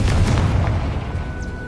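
Confringo and Bombarda spell explosions in Hogwarts Legacy make a loud, close boom that rolls into a decaying rumble over under two seconds.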